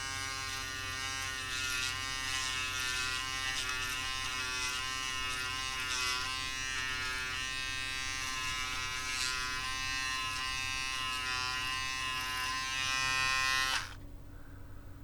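Cheap Braun and Action Lifetime electric foil shavers buzz steadily and close up while shaving a head, a continuous bright motor drone that cuts off abruptly near the end, leaving near silence.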